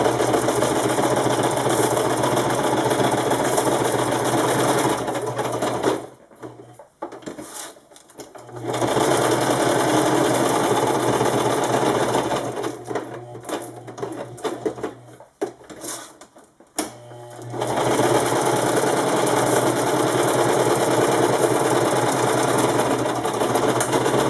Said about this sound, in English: I'm going to go and just run a stitch across the middle, back up over so you have a double stitch on your far edge of the Velcro